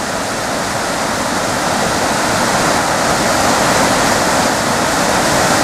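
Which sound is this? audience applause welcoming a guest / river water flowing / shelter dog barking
river water flowing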